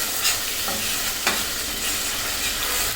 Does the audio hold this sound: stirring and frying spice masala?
yes